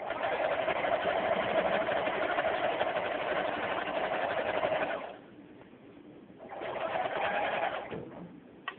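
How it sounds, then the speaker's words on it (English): A home sewing machine runs in a steady, fast whirring drone for about five seconds, stops briefly, then starts again for a shorter run, close and fairly loud with no talking. "This is me sewing."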